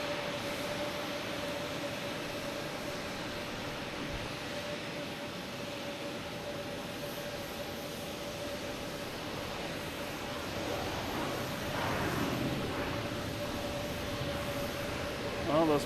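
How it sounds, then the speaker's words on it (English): An Alaska Airlines Boeing 737 MAX 9 arriving from Seattle lands at Boston Logan Airport in the evening, with a steady broad engine roar that swells slightly toward the end and carries on throughout, distant and continuous. "here comes Alaskan Airlines coming in from Seattle. 737, MAX 9."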